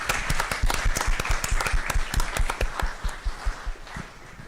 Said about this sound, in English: So give sports medicine students a round of applause again.